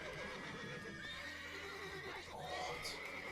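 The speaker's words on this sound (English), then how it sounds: "Horses are making way too much noise." Horses in The Witcher 3 whinny and neigh faintly at a distance over a low ambient bed, with a short high whinny near the end and no talking.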